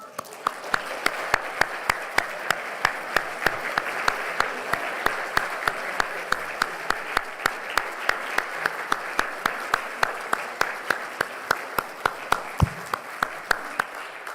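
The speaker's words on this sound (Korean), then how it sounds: "여러분의 아버지를 향해서 큰 사랑과 존경과 격려의 박수를" A church congregation at a Sunday worship service applauds the fathers with sustained, full clapping, a dense wash punctuated by crisp, regular nearby claps that continues without pause.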